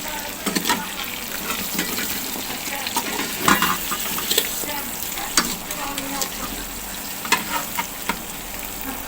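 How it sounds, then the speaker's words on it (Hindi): Chicken tikka pieces get tossed with masala in a hot pan, an even sizzle beneath repeated scrapes and knocks of the spatula, close and busy throughout, with no voices. "चिकन के पीसेस को मिक्स करेंगे ताकि सब पे जो है वो अच्छी तरह से चिकन टिक्का मसाला कोट हो जाए।"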